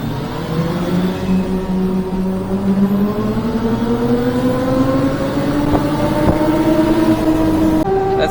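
A micro van engine with a turbo at about 12 psi of boost revs steadily from inside the cab, its tone climbing slowly and continuously under load with no talking.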